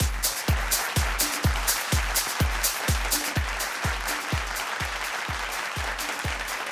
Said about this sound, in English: I'd like you to give a huge round of applause